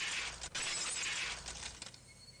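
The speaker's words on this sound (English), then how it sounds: "The unpleasant, piercing sound of shattered glass." Glass shatters in the visual novel Higurashi When They Cry: a bright, piercing burst of breaking shards with brief gaps, then tinkling fragments that fade quickly.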